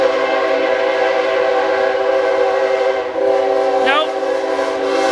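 A CN100 anniversary train rumbles past close by and loud, its horn sounding in a sustained steady blast through most of the passage, with a voice heard briefly over the noise.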